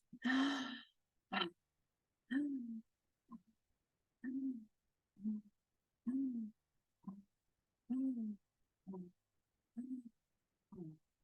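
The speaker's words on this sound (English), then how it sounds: "open your mouth and we shall start to breathe" Slow, deep breaths drawn and released through an open mouth during a guided breathing session, about a dozen separate breaths in an even rhythm, each a soft, close, hollow sigh with quiet pauses between.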